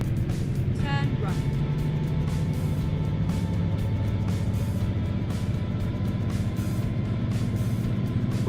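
A truck in American Truck Simulator drives along with a steady low engine drone and road rumble, a brief higher tone near the start, and someone talking over it throughout.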